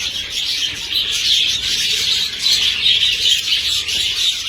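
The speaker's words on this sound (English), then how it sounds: "there is some bird on these cages over here." Budgie parakeets kept in cages in a large aviary setup chirp continuously, a dense bright twittering chorus close by with no talking over it.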